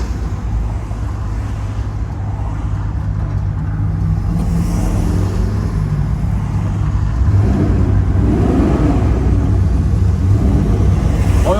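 A 1972 Chevrolet Chevelle convertible idles steadily on a hot day, the close engine rumble deep and continuous, swelling slightly in the second half as it revs a little.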